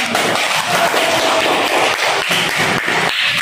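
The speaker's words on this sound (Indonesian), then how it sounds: "tepuk tangan untuk kita" A classroom audience claps together in a burst of loud, dense applause that holds steadily for a few seconds.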